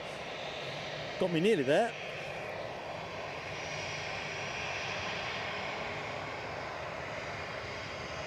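An Embraer 195 E2 airliner at Edinburgh Airport gives a steady, moderate engine rumble, while a short spoken phrase and a brief whistled tone break in near the start.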